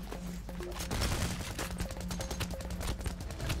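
Rapid gunfire during a bank heist in PAYDAY The Heist, a dense stream of sustained automatic shots and shorter bursts throughout, fairly loud with no speech over it.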